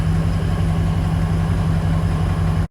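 A Ford 6.0 Powerstroke diesel engine idles close by, with a loud, steady low rumble and even pulsing throb that runs without a break and then cuts off abruptly.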